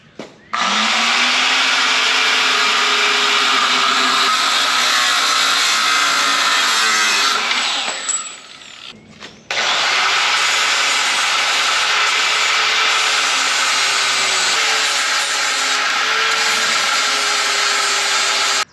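A power tool grinds through a welded metal T-handle to shorten and finish it, making a loud, continuous abrasive roar in two long passes split by a short pause.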